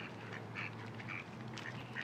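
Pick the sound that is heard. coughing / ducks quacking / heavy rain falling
ducks quacking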